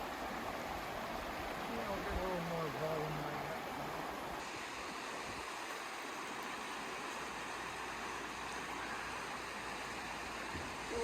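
A steady, faint rush of river water drifts up from the bottom of the Grand Canyon, a constant distant flow with a soft voice murmuring briefly over it.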